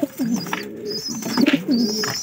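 Soft, low coos from pigeon chicks repeat in a steady rolling rhythm, close by, with faint higher chirps behind.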